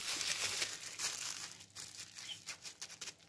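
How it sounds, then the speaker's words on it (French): Bubble wrap is handled close up, giving soft crinkling and rustling plastic sounds that fade into a few lighter scattered crackles. "Donc, je vais prendre cette fois-ci mon papier bulle."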